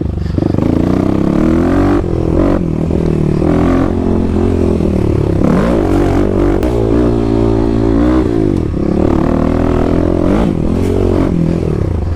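A 2021 Kawasaki KLX300 fitted with a Power Commander is ridden off-road, its single-cylinder engine droning and revving up and down, with clatter and scraping over rough bumpy ground, loud and close throughout.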